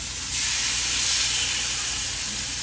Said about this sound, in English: I'm putting it on a hot baking sheet. Just to sear it